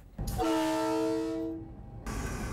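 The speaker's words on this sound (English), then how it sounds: "This particular locomotive is the most powerful class of locomotive we have in this country." Horn of a powerful diesel-electric freight locomotive, one loud sustained chord blast lasting over a second, close by, with the rumble and clatter of the passing train beneath it and after it.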